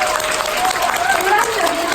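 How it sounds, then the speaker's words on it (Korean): Brief audience applause during a cosmetics seminar talk, a quick patter of clapping from a room crowd with a voice speaking over it. "괜찮으시면 박수 한번 주세요"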